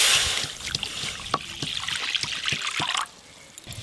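Water splashes and trickles into a pot of goat meat being cooked with cauliflower, a close, bubbling pour that stops abruptly near the end.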